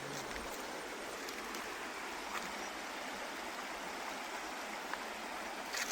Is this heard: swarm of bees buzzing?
no